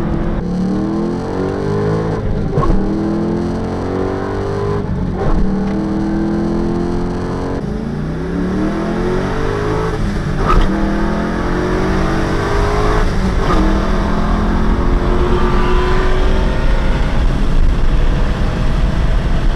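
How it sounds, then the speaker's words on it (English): Slightly modified 1-liter Honda Civic engine revs repeatedly, rising and falling in waves as the throttle is blipped and held, loud and close throughout with no voices. "my prized possession, my 1-liter Honda Civic"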